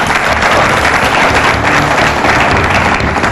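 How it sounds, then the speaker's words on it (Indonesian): Steady, loud applause from an audience at a televised debate between Partai Golkar and PKS, dense continuous clapping filling the whole stretch without breaks. "juga boleh diberikan tepuk tangan."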